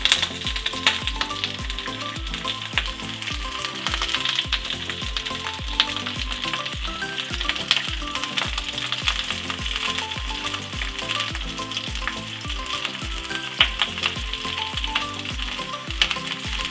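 Onion sizzles and crackles as it is stir-fried in a pan while Korean rice cake is being made, with steady frying hiss and regular scraping, stirring strokes throughout, loud and close, no voices.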